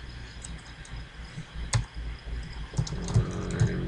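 Light, sparse keystrokes on a computer keyboard: a few soft taps, then a short cluster of clicks near the end, all quiet against a faint room background.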